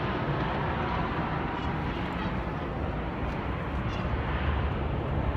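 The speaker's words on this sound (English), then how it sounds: "Oh, there's another plane." An airplane passes overhead as a steady, broad roar, continuous and fairly loud throughout, with no distinct changes or other clear sounds over it.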